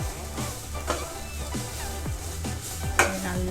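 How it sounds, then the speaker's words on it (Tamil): Grated coconut is fried on low heat in a pan that is starting to stick, with a soft sizzle under rhythmic stirring scrapes repeating about every half second, close and fairly quiet, with no one talking. "நல்லா இந்த ஈரப்பதம் போய் ப்ரௌன் கலராக ஆகுற வரைக்கும் இந்த கோகோனட்டை நல்லா ஃப்ரை பண்ணணும் சிம்மில் வச்சு."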